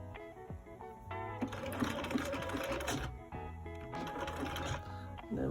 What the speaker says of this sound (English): So I'm going to start sewing all the way down there.